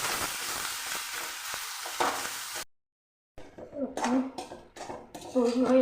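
A spatula stirs boiled potato filling with fried curry leaves in a pan, giving close scraping and light sizzling before a brief gap, then clinks and scrapes return with talk mixed in.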